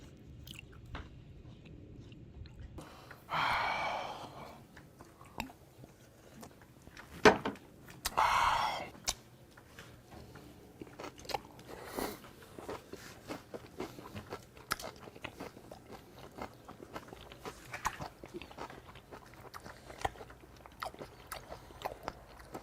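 Crunchy bites and chewing of a raw onion dish dressed with garlic and sesame oil, served at a home-cooked Korean feast; a few loud, close crunches stand out early, followed by steady, quieter chewing and mouth noises.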